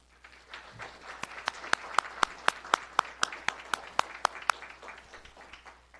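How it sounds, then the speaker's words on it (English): Sparse, faint applause at a fire and rescue academy graduation, with a few distinct claps standing out in an even rhythm over a thin patter of distant hands. "I now invite you all to give them a round of applause."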